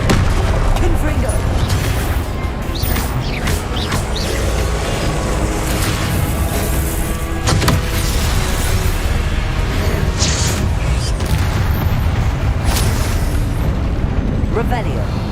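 Confringo explosive spell blasts in Hogwarts Legacy, loud booming bursts over a continuous roar of combat, with a player talking throughout.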